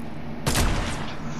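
A single loud sniper rifle shot cracks out in the Fortnite video game, a sharp close blast with a short echoing tail, ringing out alone with no talking over it.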